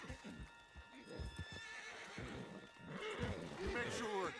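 In Red Dead Redemption 2, a horse whinnies and snorts close by while hooves clip-clop steadily, with other animal sounds mixed in.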